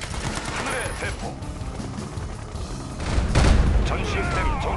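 A burst of heavy gunfire with booming impacts from a volley in the Yuri's Revenge strategy game, dense and loud throughout, swelling into a bigger barrage toward the end amid battle noise.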